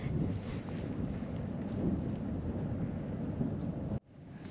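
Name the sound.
breezy wind in the desert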